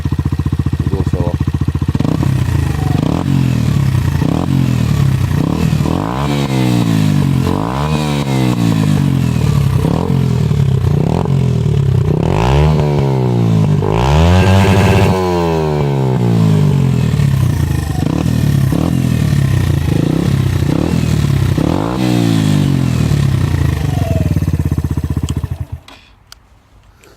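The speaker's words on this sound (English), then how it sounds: "I'll give it a couple of revs and go solo." A Sinnis Apache 125 motorcycle engine idles with a loud, close mechanical clatter, then revs up and falls back repeatedly in quick rising and falling sweeps before cutting off abruptly at the end.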